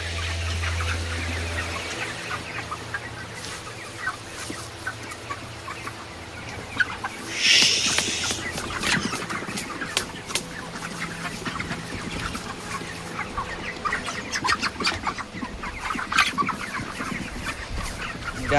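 A flock of chickens clucks steadily around a farm shed, with many overlapping nearby calls and one louder squawk partway through, alongside light clatter of feed containers.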